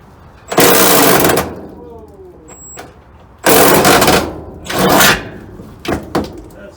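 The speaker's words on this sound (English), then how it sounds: "That's the noise of what your daddy's doing, huh? He's got the big power tools out now." Loud bursts of heavy power tools working on a 1973 Ford F250 crew cab during a front clip and interior teardown, several long grinding or hammering runs with pauses between, close and harsh, with people talking.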